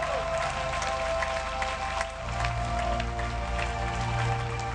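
A church congregation at a Sunday service applauds and cheers in praise, a dense, steady wash of clapping with a sustained low hum from music or an organ beneath it, continuous throughout.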